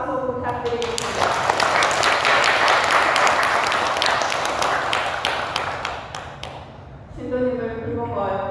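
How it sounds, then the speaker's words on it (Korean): Loud crowd applause at a Buddhist temple Dharma service, a dense burst of clapping lasting several seconds between stretches of someone speaking over a PA. "감사의 큰 박수 부탁드리겠습니다"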